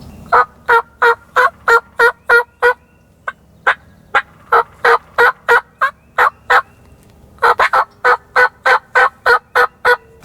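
A mouth call imitates a turkey gobble in a long series of sharp, evenly spaced yelps with a short pause midway, close and clear.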